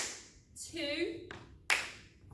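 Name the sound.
hand clap before catching a thrown ball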